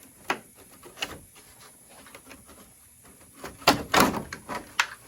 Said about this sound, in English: It's got clips along the bottom here that hold it in. So once those screws are out, you can just carefully pry it out.